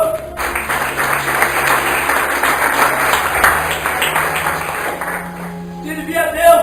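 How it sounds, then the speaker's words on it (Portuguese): A church congregation claps in praise during a service, a moderate crowd of hands sounding through a reverberant room over a steady hum, fading near the end as a voice returns. "Você pode aplaudir o Senhor?"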